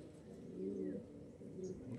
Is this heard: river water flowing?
no